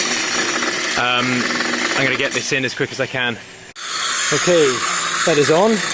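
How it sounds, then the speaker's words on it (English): A harsh, steady grinding whine from a power tool cutting steel beams runs in the background while someone talks over it close by. "I've got the steel guy cutting steel, so that's what that noise is in the background"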